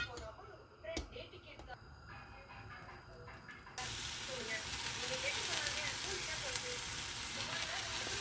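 Dosa batter hits a hot pan slicked with olive oil, and a sudden steady sizzle takes over, loud and continuous for several seconds after a quieter start.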